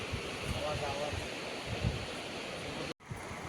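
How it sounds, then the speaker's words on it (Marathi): Sea waves washing onto a Konkan beach make a continuous broadband rush with wind buffeting the microphone, steady and fairly loud with a brief dropout near the end. "पाण्याचा आवाज बघा ना किती छान येतो"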